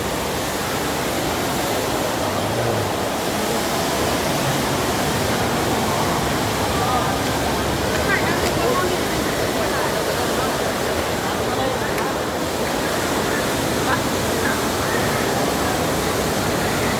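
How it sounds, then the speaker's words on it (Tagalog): Strongly rushing water at Marina Bay, Singapore, a dense, steady roar like a waterfall, loud and unbroken for the whole stretch. "guys, lumakas na yung tubig niya,"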